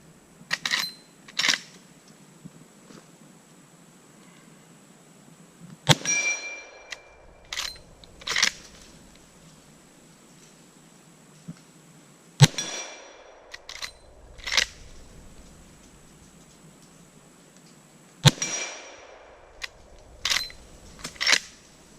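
Loud, sharp gunshots from a Marlin 1895 SBL lever-action brush gun, fired one at a time at intervals of several seconds, each crack trailed by a short ringing decay and the clack of the lever being worked between shots.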